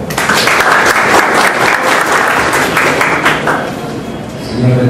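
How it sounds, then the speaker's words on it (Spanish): An audience at a university book presentation breaks into loud, sustained applause that tapers off toward the end, with voices faintly audible beneath. "Un aplauso."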